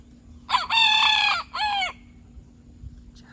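A rooster crows once up close, a loud drawn-out call broken into two harmonic sections, over a quiet steady background hum.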